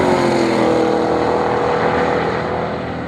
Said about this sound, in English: The Ford Shelby GT500 turned a best lap of 304.